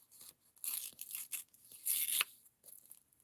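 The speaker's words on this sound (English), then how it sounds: "I think I'm just going to kind of rip this" Paper torn by hand from packaging scraps in a few quick, close rips with brief pauses between them, crisp and papery, and no voices.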